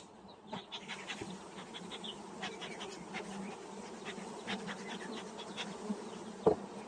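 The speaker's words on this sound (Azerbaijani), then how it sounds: "Birinci mərtəbədə arı sayı çox gözəl." Carniolan honey bees buzz steadily inside an opened hive on its first storey, a dense, continuous drone with scattered sharper wingbeat flickers, close and moderately quiet, with no speech.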